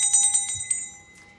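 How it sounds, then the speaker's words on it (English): An antique Tibetan bell rings with a bright, sustained metallic tone, struck several times in quick succession before the shimmering resonance slowly fades. "This is my antique Tibetan bell."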